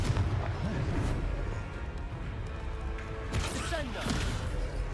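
Blasting-spell explosion from a wizard video game: a dense rumbling burst with crackling debris over a steady low roar, a second sharper blast following about three seconds later, with game music and voices faintly underneath.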